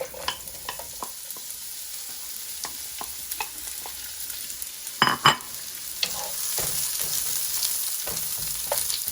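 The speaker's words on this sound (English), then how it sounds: "While the pan's still hot, throw the oil in for the shallots" Shallots fry in plenty of hot oil in a pan, crackling and sizzling steadily, with sporadic stirring clicks and a louder scrape or spatter burst midway.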